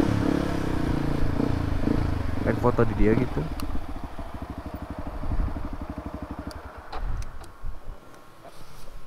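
A Yamaha WR155R four-stroke motorcycle runs nearby with a steady mid-pitched engine putter that pulses rhythmically, easing and picking up again, while a rider talks over it.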